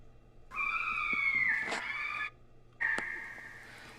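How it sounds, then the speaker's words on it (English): Fisher cats scream in the woods behind a house at night: two long, wavering shrieks, the first drawn out and the second shorter, clear and fairly close in a quiet setting. "This is the sound of the Fisher cats in the woods behind my house."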